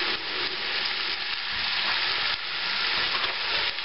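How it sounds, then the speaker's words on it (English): Cabbage and Spam fry in bacon grease in a pan, giving a steady, close, crackling sizzle with soft stirring shifts, continuous and free of talk. "Okay, this has been frying for maybe 10 minutes now. In bacon grease."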